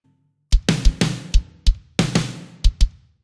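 A MIDI drum pattern of three layered snares plus kick drums plays alone: deep thumping kicks and sharp, bright snare cracks alternate in a steady, loud, close groove for about three seconds.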